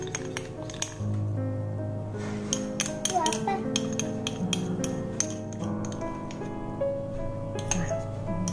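A spoon clinks and scrapes around a bowl of cake batter mixed with rum and condensed milk, sharp irregular taps ringing against the bowl while someone talks in the background.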